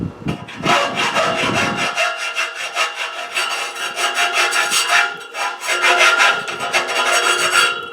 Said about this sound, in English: now I'm just going around with a file and you know, smoothing up the edges and all that in here